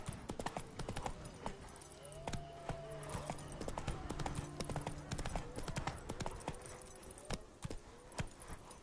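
Roach the horse in The Witcher 3, Toussaint, trotting with rapid, regular hoof clip-clops on hard ground, close and clear, while someone speaks briefly in the background.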